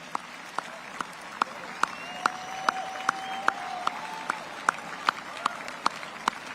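Applause at a large celebration event comes through as sharp, evenly spaced claps, roughly two per second in a slow steady rhythm, over a quiet background.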